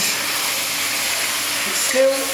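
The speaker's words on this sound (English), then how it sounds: "Now I'm going to get lots of steam." Steam hisses steadily from beef curry in a hot induction wok set to 3,200 watts, a broad continuous sizzle, close and fairly loud, with a brief tonal whine and swell near the end.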